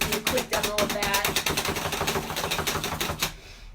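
A kids' garlic chopper dicing garlic, giving a fast, steady run of sharp clicking chops close up that lasts about three seconds and then stops.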